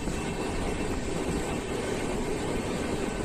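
Train running at night on the NTT Madurai Express out of Kalaburagi station, a steady loud rumble and rattle of the moving carriages heard from inside, constant throughout with no talking.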